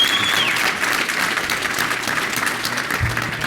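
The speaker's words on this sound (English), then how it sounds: "Can I get a round of applause for Arlen Dipper?" An audience at an industrial standards fireside chat breaks into applause for a panelist, a loud, close, continuous spread of clapping from a crowd that stays full throughout and then eases slightly toward the end.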